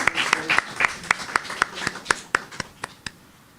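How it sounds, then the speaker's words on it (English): Scattered hand claps at a book launch event, about a dozen distinct, uneven claps spread out over a few seconds, fairly close and thin rather than a full ovation. "A round of applause."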